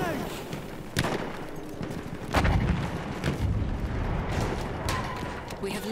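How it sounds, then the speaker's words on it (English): A deep booming grenade blast in a video game battle lands among scattered gunshots and thuds, with a low rumble trailing after it. "Throw in a grenade!"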